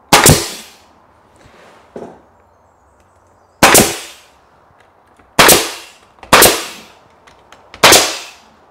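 Nail gun driving nails into timber window architraves, five sharp loud cracks at irregular intervals of one to two seconds, each with a brief decay, plus a softer knock between them and quiet room tone.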